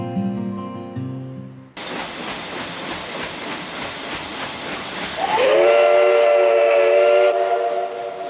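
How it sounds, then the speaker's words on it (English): A historic paddle steamer on the Murray River at Echuca sounds its steam whistle, a loud sustained blast over the rushing hiss of steam, rising in pitch and held for a couple of seconds before stopping. "That whistle, when it's blown, it's the noise to indicate to the guy downstairs to change gears."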